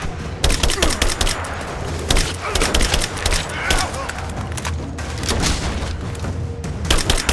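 Gunfire in the video game Rise of the Tomb Raider: dense, loud bursts of automatic shots and booming impacts fill the scene continuously, with shouted voices mixed in under the battle.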